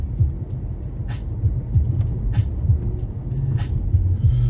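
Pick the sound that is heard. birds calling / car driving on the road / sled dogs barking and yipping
car driving on the road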